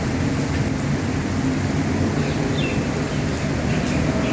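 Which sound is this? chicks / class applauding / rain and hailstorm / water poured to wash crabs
rain and hailstorm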